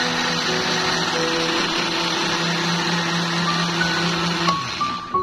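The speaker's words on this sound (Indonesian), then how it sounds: "Blender bumbu tumis tempenya sampai halus." A kitchen blender grinds stir-fry spice paste for tempeh until smooth, a steady loud whirring hum that stays even throughout, with a slight shift near the end.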